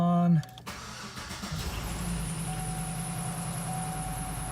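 A car with a 5.3 LS V8 engine starting after its oil pressure sending unit was replaced. The starter cranks briefly, then the engine catches and settles into a steady idle with a high whine above it, close and fairly quiet.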